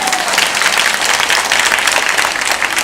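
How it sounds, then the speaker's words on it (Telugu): A gathered audience in Manthani claps in sustained, dense applause, loud and steady throughout with no break and no talking over it. "అమ్మ ఉత్త మంథరి వాళ్ళే చప్పట్లు కొట్టండి అమ్మా"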